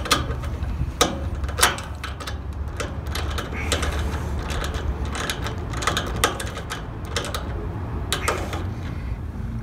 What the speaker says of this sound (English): You hold one first nut with the open end and proceed to tighten with the socket.